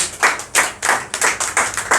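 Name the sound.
clapping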